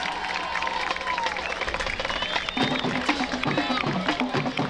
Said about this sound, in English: One more round of applause for that percussion line